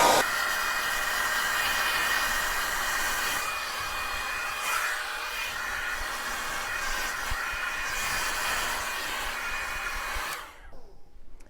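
Hair dryer blowing hot air onto grey hair at the roots, a steady close hiss and whir that shifts slightly as it moves, then cuts off near the end.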